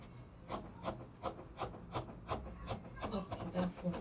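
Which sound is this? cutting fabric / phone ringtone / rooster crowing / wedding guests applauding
cutting fabric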